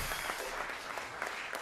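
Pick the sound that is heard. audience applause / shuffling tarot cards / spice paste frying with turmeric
audience applause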